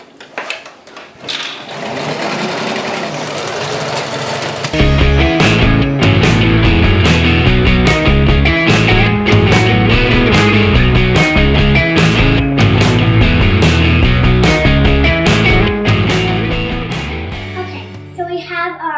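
A sewing machine stitching fleece slippers runs in a loud, fast, steady whir for most of the stretch, after a few quieter starts and handling sounds.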